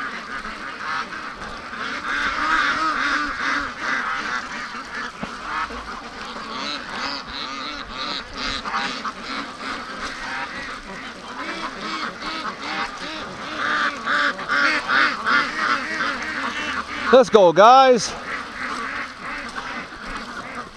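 Free-range Muscovy ducks in a muddy yard calling and quacking in a steady nearby chorus, with a louder burst of honking calls near the end and someone briefly speaking.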